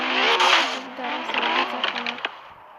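A car accelerating along a road, its engine note climbing steadily, close and fairly loud, with a few sharp clicks near the end and a voice speaking over it.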